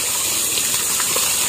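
Shower water gushes in a loud, steady hissing spray, continuous and close, with no voices over it.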